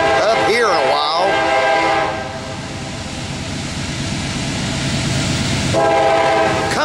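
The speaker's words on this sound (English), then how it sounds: "hadn't gotten a train up here in a while." A CSX freight train led by three AC44 locomotives rolls south on a siding track, horn sounding with rail rumble close and loud, rising again at the end.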